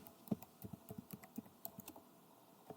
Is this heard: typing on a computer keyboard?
yes